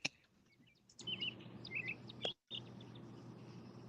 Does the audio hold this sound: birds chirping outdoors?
yes